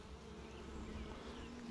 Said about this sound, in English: There's some bees on there.